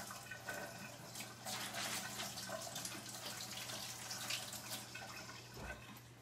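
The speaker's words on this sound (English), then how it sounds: "Some hot water. 1/4 cup of hot water." A quarter cup of hot water poured while making a Thai-style sauce, a soft steady trickling stream running for several seconds at low volume.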